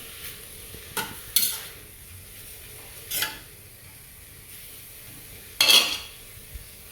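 Ackee and salt fish are stirred in a pot with a faint sizzle underneath and a few distinct scraping strokes of a utensil against the pot, close by and without talk.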